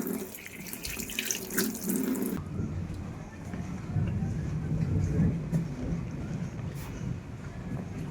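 Tap water runs steadily into a sink while a cut mango is rinsed, a continuous splashing stream that shifts slightly after the first couple of seconds.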